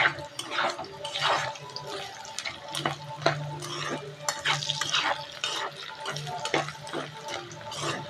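A spatula stirs browned garlic in a frying pan for kakarakaya ulli karam, irregular scraping and sizzling strokes with light clinks, close and fairly quiet.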